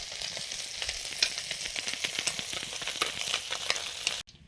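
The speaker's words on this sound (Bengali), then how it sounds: "মাছ ভাজা হয়ে গেছে" Fish fries in hot oil in a home kitchen pan, giving a continuous dense sizzle with crackling pops, fairly soft and close, before it cuts off abruptly at the end.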